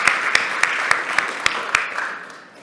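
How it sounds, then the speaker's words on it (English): An audience at a morning community summit breaks into applause, a dense wash of clapping with sharp regular knocks cutting through, loud and close at first, then fading toward the end. "Round of applause for the top dog."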